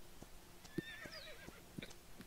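A horse in the Horse Life video game gives a quiet, high whinny that rises and wavers, with soft clip-clop hoof taps and light thumps spaced through the short stretch.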